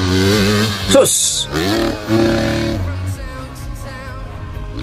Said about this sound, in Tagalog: Sinigsag pa yung motor.